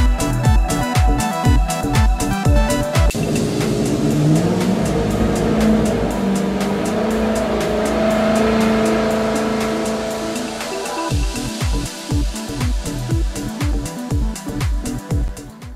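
A warmed-up car engine with a sump oil pump belt drive thrums in rhythmic pulses, swells into a sustained rev through the middle, then settles back into its pulsing idle.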